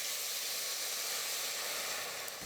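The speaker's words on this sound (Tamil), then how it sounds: "இப்போ இது கூட தண்ணி சேர்த்துடுறேன்." Water poured into a hot pan of roasted moong dal gives a steady, loud hiss of steam that holds evenly for a couple of seconds, with no voices.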